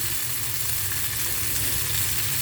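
Jhatka hilsa fish curry sautéing in a pan, giving off a loud, continuous dense sizzle with no pauses.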